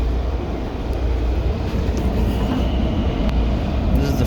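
A Washington Metro train rumbles steadily nearby at L'Enfant Plaza, a loud continuous low roar with faint metallic squeals as it rolls into the station.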